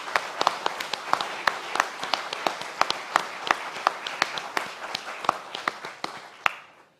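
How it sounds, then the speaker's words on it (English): An audience at a charity gala gives sparse, scattered applause, with distinct individual claps that thin out and fade over several seconds in a large room. "Huge round of applause."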